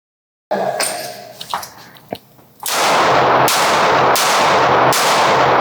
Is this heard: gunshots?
yes